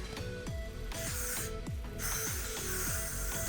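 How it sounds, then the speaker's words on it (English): Multi-purpose hairspray gives short hissing bursts over set curls, broad airy sprays up close with quieter gaps between them and faint handling noise underneath, with no one speaking. "we are going to use the multi-purpose hairspray to do one quick spray over top just to set the style in place"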